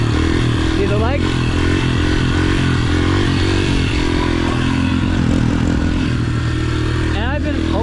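A dirt bike engine revs hard through a second-gear wheelie, a loud, close, raspy drone with sharp rising throttle bursts, while a voice speaks over it.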